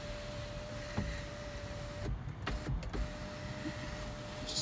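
Sunroof motor on a 2017 Toyota Camry SE hums steadily as the roof moves, with a brief pause and a couple of clunks partway through.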